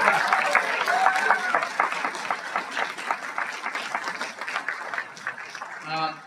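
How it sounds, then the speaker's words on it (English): Audience applause at a celebration of life honoring Joe Scott, given for Josh Black, a dense wash of clapping with some crowd noise that thins slightly toward the end. "Another round of applause for Josh Black"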